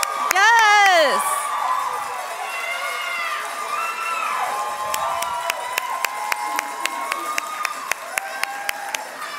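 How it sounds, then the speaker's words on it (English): An audience at the Aviano Idol 2022 singing competition finale claps and cheers for the finalists, a continuous wash of applause that follows a shout and runs under someone talking. "let's again give both of them a huge round of applause"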